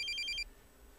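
A mobile phone rings with a bright, repeating electronic ringtone pattern for under half a second, then cuts off abruptly, leaving quiet room tone with no speech.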